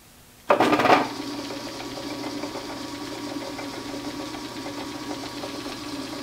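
A lathe motor kicks on with a sharp onset, then settles into a steady mechanical hum with a faint rhythmic knocking as it runs up to 400 RPM, alone and moderately loud.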